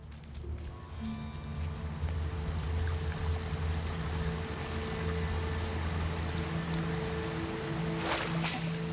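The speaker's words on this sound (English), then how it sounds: "We hears the river." A river rushes steadily in The Lord of the Rings: Gollum, a constant broadband wash of flowing water with a low hum beneath and a brief brighter splash near the end.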